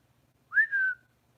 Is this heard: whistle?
yes